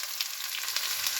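Onion frying in hot oil in a pan for a Kerala-style egg roast, a steady close sizzle with light crackling throughout and no talking.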